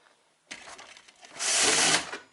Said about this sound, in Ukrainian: Зараз він працює добре, ось даю газу